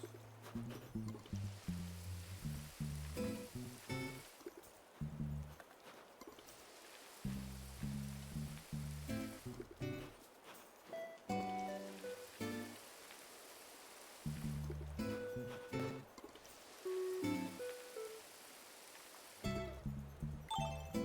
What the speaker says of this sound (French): On va les arroser.